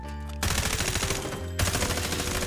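Rapid automatic weapon fire in the Battlefield-style shooter Delta Force, two loud close bursts of continuous shots separated by a brief gap, with no talk over them.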